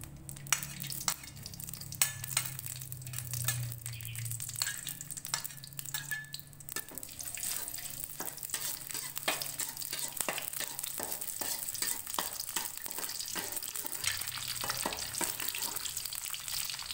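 Garlic frying in heated oil for a green mussel oyster-sauce dish, a steady crackling sizzle with scattered sharp pops and occasional stirring scrapes, close and continuous throughout.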